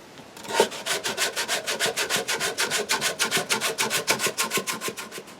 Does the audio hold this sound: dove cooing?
no